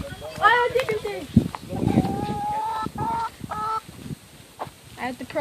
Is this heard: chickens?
yes